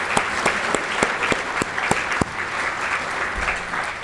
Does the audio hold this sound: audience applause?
yes